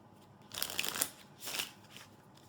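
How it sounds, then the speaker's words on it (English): Playing cards are shuffled for the card game Tichu in two quick riffling bursts, close up and crisp, with a short pause between them. "Whoever the start player is, they get to shuffle the cards."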